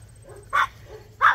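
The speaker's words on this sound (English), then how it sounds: "Who are you barking at?" A tiny Chihuahua puppy gives two sharp high yaps about half a second apart, close and loud against a quiet outdoor yard.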